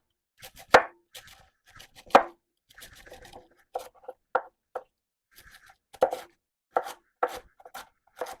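A knife chopping jicama and an unpeeled apple on a cutting board for coleslaw, irregular crisp thunks and cuts, some louder strikes spaced among quieter taps, close and alone.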